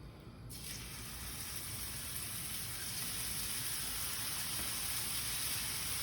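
A steak seared in a hot skillet in avocado oil, giving a steady, loud sizzle that holds continuously with a brief sharp onset at the start.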